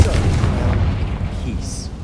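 A Confringo fire spell explodes in Hogwarts Legacy on PS5, a deep booming blast with rumbling low-end energy that rolls on for about two seconds, fairly loud, with faint game ambience around it.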